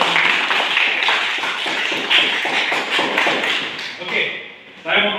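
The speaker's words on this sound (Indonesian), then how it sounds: "kasih aplaus" Students clapping in a classroom, a dense patter of many hands that holds for several seconds and then trails off, with a voice heard alongside.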